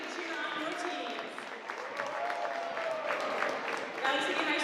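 Spectators at a high school girls' varsity basketball game applaud and cheer, a sustained wash of clapping and crowd noise that swells near the end, with an announcer's voice over it.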